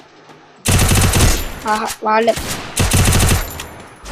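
Rapid UMP submachine-gun fire from the video game Free Fire sounds in loud, dense bursts, first a long burst, then a short pause with a brief spoken word, then another sustained burst.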